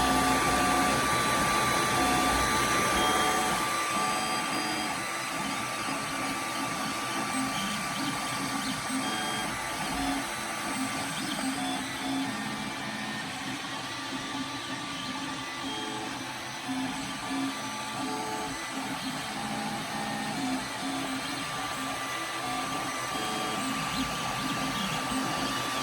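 A Creality Ender 3 3D printer hums and whirs steadily for a long stretch, with faint shifting motor tones and occasional soft stepping sounds.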